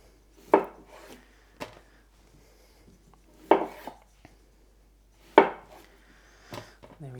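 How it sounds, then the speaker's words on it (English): A knife chops through vegetables on a cutting board, halving and quartering them in four or five sharp, distinct strikes spaced a second or two apart, close and clear with quiet gaps between. "these smaller ones I'll cut in half. And these bigger ones probably in quarters."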